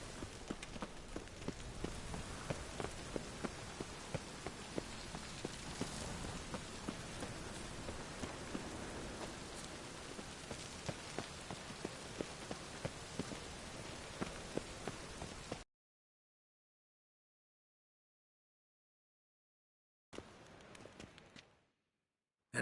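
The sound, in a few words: rain falling in a PS4 video game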